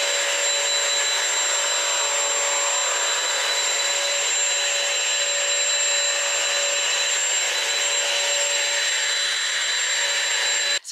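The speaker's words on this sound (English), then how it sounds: "it's called the Bissell Crosswave. It's that lime green multi-surface vacuum slash floor" A Bissell Crosswave lime green multi-surface vacuum and floor washer runs close by with a loud, steady motor whine and airy roar, holding constant before cutting off abruptly at the very end, with no talking.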